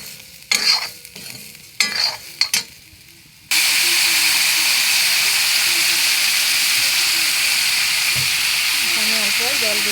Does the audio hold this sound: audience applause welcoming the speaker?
no